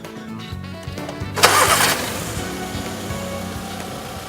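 A car engine cranks briefly, catches with a loud burst, then settles into a steady idle.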